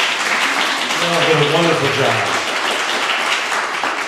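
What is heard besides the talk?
audience applause for the runners-up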